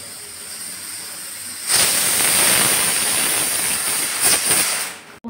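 Pressure cooker cooking red lentils on a stove lets out a loud, sustained steam whistle that bursts in abruptly and hisses steadily for several seconds, then cuts off.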